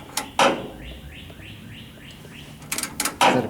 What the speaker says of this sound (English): Anybody hear the bird in the background?